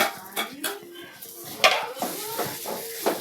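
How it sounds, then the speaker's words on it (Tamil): A spoon stirs salt and spices into sautéed vegetables in a cooking pot for a Tamil vegetable kurma, with close metallic clinks and scrapes against the pot wall at an uneven rhythm. "உப்பையும் போட்டு கிண்டிக்கிறோம்"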